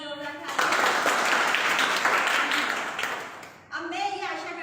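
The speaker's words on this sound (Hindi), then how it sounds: "आपको जिसने भी यहाँ बुलाया है उसके लिए एक बार जोरदार तालियां" An audience bursts into applause, with loud sustained clapping from a large crowd lasting several seconds, set between someone speaking before and after.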